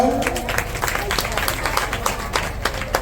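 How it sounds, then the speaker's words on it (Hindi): Audience applause at an award ceremony in India, a steady wash of many hands clapping close and loud for about three seconds with a few brighter individual claps standing out. "हम लोग ताली बजाएं"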